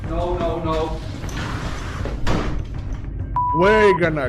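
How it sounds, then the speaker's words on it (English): A door slams shut on its own in a house late at night, a single heavy thud partway through, set against continuous background noise with people talking and exclaiming around it. "a door suddenly slams shut all on its own"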